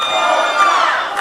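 Arena crowd at a pro wrestling show keeps up a loud, steady chant, many voices blending into a bright, continuous roar with no break.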